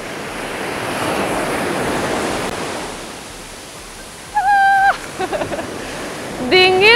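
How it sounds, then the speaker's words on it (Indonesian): Big waves breaking and strong wind at Kuta beach in Bali on a morning, a steady roar of surf and gusts that swells and eases, with sharp whistle-like tones near the end. "ombaknya lumayan besar, jadi anginnya kencang"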